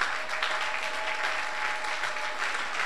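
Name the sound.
church congregation applauding and cheering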